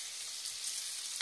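Pasta carbonara being stirred in a hot pan, a faint soft sizzle with light scraping and a brief clink near the end, heard close and alone.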